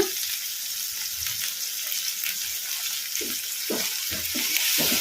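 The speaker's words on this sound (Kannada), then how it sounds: "ಅಲ್ಲ ಬೆಳ್ಳುಳ್ಳಿ ಪೇಸ್ಟು ಹಸಿ ವಾಸನೆ ಹೋಗೋವರೆಗೂ ಫ್ರೈ ಮಾಡ್ಕೊಂಬಿಡೋಣ ಮೀಡಿಯಮ್ ಫ್ಲೇಮಲ್ಲಿ" Ginger-garlic paste fries in a pan over medium flame with a steady, loud sizzle and scattered bursts of spatula stirring toward the end, no voices present.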